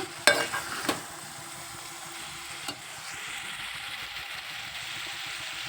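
Bitter gourd pieces frying in a pan for a curry, a steady close sizzle throughout with a few sharp stirring clinks near the start.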